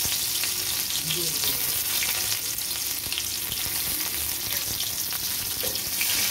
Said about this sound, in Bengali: সর্ষের তেলটা গরম হয়ে গেছে, আমি দিয়ে দিচ্ছি রসুনটা